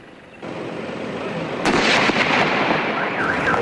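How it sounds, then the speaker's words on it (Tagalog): An illegal Plapla firecracker strapped to a mannequin's hand bursts with a loud, broad blast after a rising hiss, and the noisy rumble and crackle linger afterward. "Una naming sinubukan ang Plapla at ikinabit ito sa kamay ng manikin."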